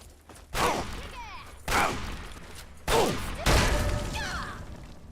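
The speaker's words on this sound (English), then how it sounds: "Let's try the plasma rifle." A plasma rifle fires in Fallout 3: four separate loud blasts, each sharp onset trailing into a decaying crackle, spaced about a second apart.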